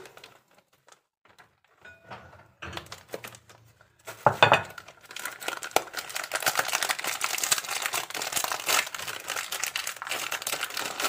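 A plastic freezer bag filled with broken school biscuits is opened by hand, with a few soft rustles first and then steady, close crinkling and rattling as the bag is pulled apart.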